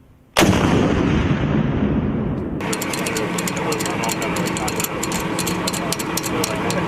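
A Carl Gustaf recoilless rifle goes off with one sudden, very loud blast, and a long rumbling roar and crackle follow. Voices and radio-like chatter continue underneath.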